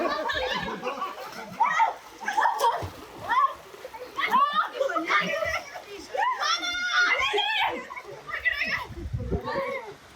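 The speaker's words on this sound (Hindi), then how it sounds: "आयशा को पानी में धोबी पछाड़ किसी और ने नहीं, बल्कि उन्हीं के अपने भाई ने मस्ती मस्ती में दी।" A person is thrown into water by her brother during playful fun on a Goa trip, making a loud splash amid children's shouts, laughter and lively chatter.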